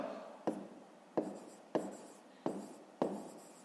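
Handwriting on paper during a fifth-grade math exercise: five distinct scratchy strokes or taps spaced about half a second apart, quiet and close, with no speech.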